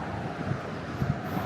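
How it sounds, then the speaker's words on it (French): Strong wind buffets the microphone while crossing a bridge on foot in New York, a continuous rumbling roar with low gusty thumps. "Avec un vent de malade."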